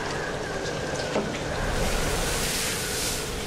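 Sea waves surge and hiss around a ship at sea, a steady broad wash of water with no speech.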